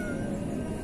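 A cat at a fishing spot meows in a single drawn-out, fairly loud call with no talking over it.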